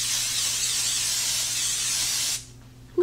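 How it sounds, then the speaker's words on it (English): Cooking spray hisses steadily from an aerosol can into a 6-quart crock pot for about two seconds, close and fairly loud, then stops, with a soft click at the end. "I'm gonna be spraying the inside of my crock pot."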